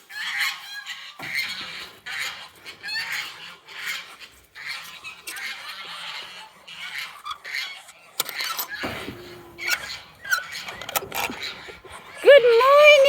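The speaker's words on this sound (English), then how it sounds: "my Peachick in the room is not quite ready to go out yet. He's calling to them." A young peachick kept indoors calls out with a few high, thin whistling cries near the end, under steady human talk and background bird and goose-like honking.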